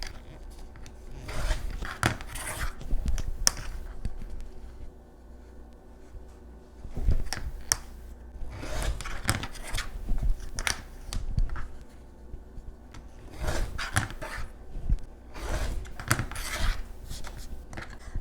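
Fabric being trimmed for a sawtooth star quilt block with a pinwheel center, with repeated close crisp cutting and rasping strokes in bursts and short pauses, no talking.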